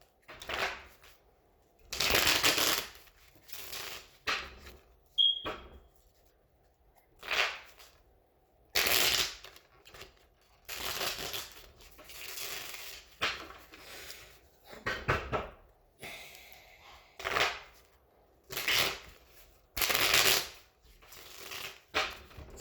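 Stiff tarot cards shuffled by hand in repeated short bursts of riffling and rubbing, roughly a dozen close, crisp shuffles separated by brief pauses, with no talk.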